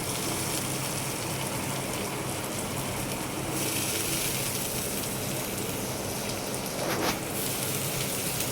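Curry leaves, three sprigs, hitting hot oil in a pan while carrot fry is being cooked give a steady, loud hiss and crackle throughout, with a brief sharper burst near the end.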